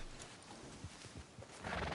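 A horse in Red Dead Redemption 2 gives a quiet whinny over soft clopping hooves, low and muffled, with the neigh swelling briefly near the end, no voices present.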